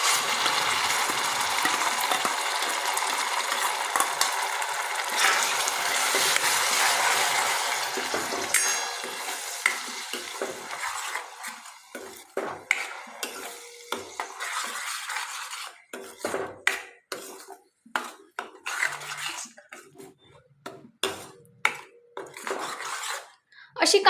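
Onion paste made from three to four onions drops into hot oil for an egg curry, giving a loud, steady sizzle that later gives way to sharp, irregular clanks of a spoon stirring against the pan.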